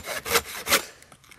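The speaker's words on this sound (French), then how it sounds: "Donc je parle toujours de la scie pliante." A folding saw cuts through wood with two strong, rasping strokes close by, followed by a few fainter scraping pulls.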